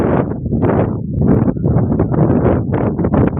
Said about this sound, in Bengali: আর নদীর ধারে বাতাস অনেক বইছে